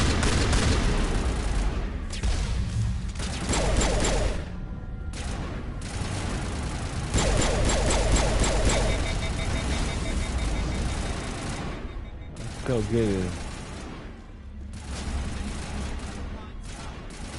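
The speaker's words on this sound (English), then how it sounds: "I like all that gunfire." Dense bursts of rapid gunfire and explosions from the video game Mass Effect, loud and nearly continuous, with a brief spoken line mixed in.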